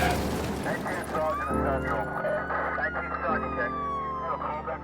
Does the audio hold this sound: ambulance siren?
yes